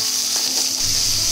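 Onions sizzle and crackle loudly in hot oil, a close, continuous frying hiss.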